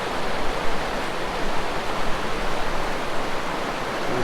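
Clear stream water running past pine trees, a steady, dense rushing wash that stays loud and even throughout with no voices.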